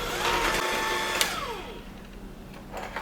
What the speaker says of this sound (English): Now once you've added those ingredients in, you give it a mix.